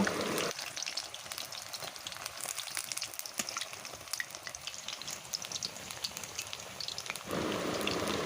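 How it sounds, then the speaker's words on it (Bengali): Pumpkin flower fritters frying in a pan, giving a constant crackling sizzle with faint pops and spatter, softer in the middle stretch and louder at both ends, with no talking. "এইভাবে কুমড়ো ফুলের বড়াগুলো ভেজে নিলাম উল্টে পাল্টে ভাজতে হবে"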